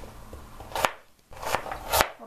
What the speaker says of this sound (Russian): Лучок тоже нарезаем кубиками.